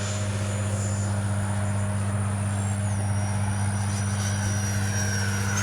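An FMS 70mm Yak-130 RC jet flying overhead, its steady electric ducted-fan whine holding constant with a slight pitch shift midway, heard at moderate distance over a low outdoor hum with no voices.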